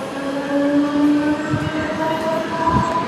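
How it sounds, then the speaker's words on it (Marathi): A train pulls away from a station, its loud steady rumble and rolling wheel noise carrying sustained whining tones and a few low thumps, close by and without talk. "आपण ट्रेनमधून उतरलो आणि आता ट्रेन जाईल"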